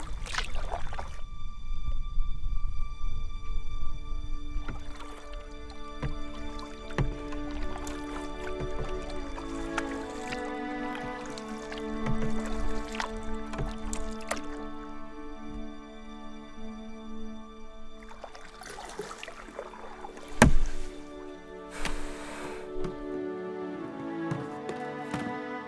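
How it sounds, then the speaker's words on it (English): A small boat is paddled across a Michigan wilderness lake into headwinds, with soft paddle strokes and water drips recurring at an irregular pace over a backdrop of steady tonal hum and light wind. "I got nice headwinds coming at me, so it's gonna be a fun paddle"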